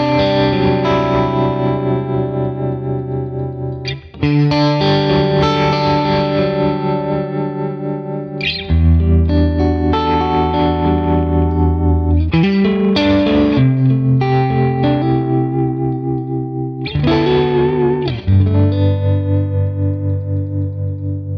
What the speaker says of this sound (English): this is going to use the tremolo